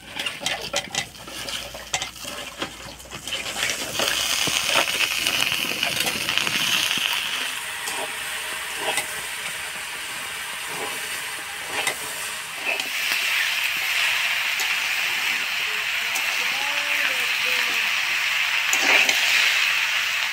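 Vegetables tossed into rice and mashkalai lentils in a hot pot for khichdi, with a steady broadband sizzle and hiss after an opening of clattering and stirring, occasional spoon and pot knocks throughout, no talking.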